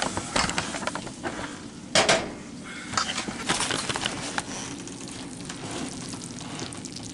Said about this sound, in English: Heat it until the cheese is melted and bubbly